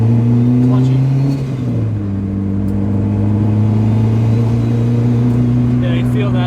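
A Honda DA9 car engine with a new clutch revs up, dips, then climbs again, loud and close inside the car, with voices talking over the engine.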